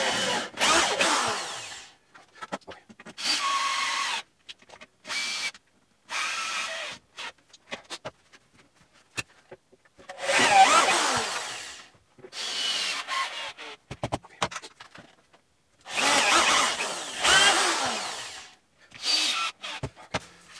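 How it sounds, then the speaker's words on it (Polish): A power drill drives confirmat screws into the side of an upper corner kitchen cabinet carcass, in about seven loud, close bursts of whirring and grinding into wood, each a second or two long and separated by short silences. "Bok skręcam na trzy konfirmaty, nie ma co oszczędzać."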